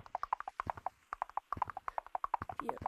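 A horse gallops in the VR game Gorilla Tag, with rapid, crisp hoof clip-clops in quick uneven bursts and a brief pause midway, close and clear with no talk over it.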